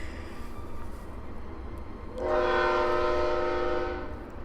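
A passing train sounds a long horn that swells in over background rumble of the rails, fairly distant and steady before fading slightly.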